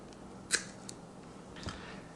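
Scissors snip through loops of nylon paracord: two short, crisp cuts about a second apart, close and fairly quiet, with no other sound around them.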